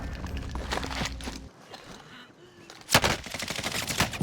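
Gunfire in Call of Duty Warzone rattles in rapid bursts, with a sharp, loud shot standing out, alongside in-game movement and footstep-like sounds.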